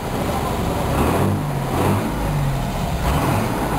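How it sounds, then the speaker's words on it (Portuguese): A truck engine fitted with a modified turbocharger rumbles deep and close, rising and falling in a few gentle revs with faint background voices. "Viu o caminhão silencioso agora?"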